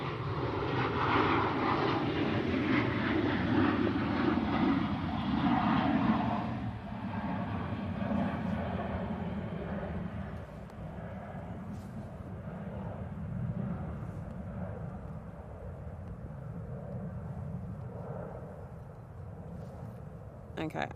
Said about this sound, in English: That was a very flat departure.